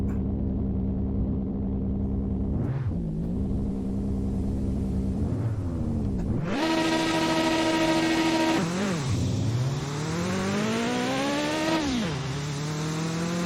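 A car in the Mon Bazou video game pulls away in second gear, engine loud and close, revving up and down in several strained surges with rising pitch sweeps, then climbing hard before easing off.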